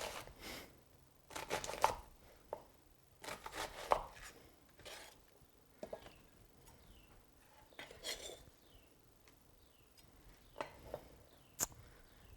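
A knife chops an onion on a cutting board, giving a run of sharp, close, uneven knocks and crisp cuts in small clusters, with quiet pauses between them and no one talking.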